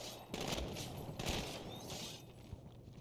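Repeated gunfire bursts in the Halo video game, with rapid clustered shots of moderate loudness and an ongoing low rumble beneath, and no talk.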